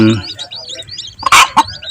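Chicks that fell into an oil channel cheep in quick, high, repeated peeps, close and fairly loud, with a couple of sharper bursts near the end.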